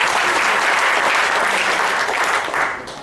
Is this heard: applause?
yes